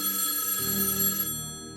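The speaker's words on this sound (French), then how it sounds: "Le téléphone a sonné." A telephone bell rings in a home, a steady electronic ring holding for nearly two seconds, fairly close and clear with no talking over it.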